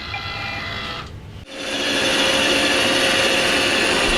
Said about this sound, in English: So we've got robot Roombas now. Let's have it clean.